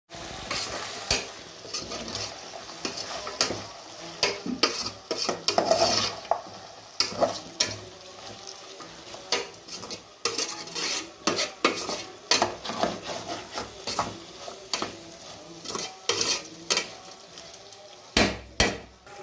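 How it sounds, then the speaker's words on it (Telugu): Green chili, potato, onion and peas fry in a pan with a steady sizzle. A metal spoon stirs and scrapes with frequent sharp clinks and knocks against the pan, close and fairly loud, with no voices. "పచ్చిమిర్చి, ఆలు, ఆనియన్, బఠానీలు వేసి కొంచెం సాల్ట్ వేసి బాగా వేయించాలి"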